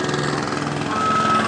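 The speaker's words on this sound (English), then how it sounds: "You could actually see the bottom of helicopters." A police helicopter flies low overhead in a city neighborhood, its rotor thudding in a steady, rapid beat with a loud, droning engine whine that holds constant and close throughout.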